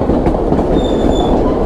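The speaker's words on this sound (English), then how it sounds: "Another train just passing through." White Pass & Yukon Route train rolling past on the rail line, loud close rumble with clattering wheels and a faint wheel squeal, heard alone without talk.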